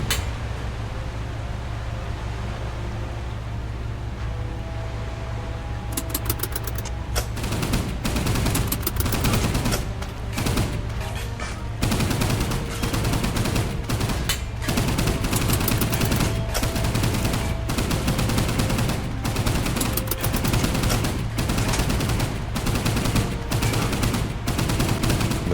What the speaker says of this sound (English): Getting the job done as we absolutely spray them with machine gun fire.